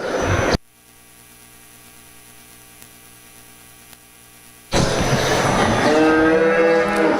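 Cattle at a market and breeding beef show give a loud, close moo that cuts in after a quiet stretch of low hum.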